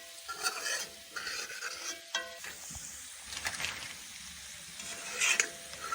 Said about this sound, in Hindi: अब गोश्त को 5 से 10 मिनट के लिए भून लेंगे।